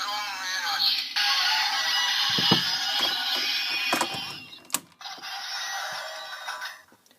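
A DX Genesis Driver toy belt from Kamen Rider Gaim runs its henshin transformation: loud electronic sound effects and music from the toy, broken by mechanical clicks and clacks of the handle and lock.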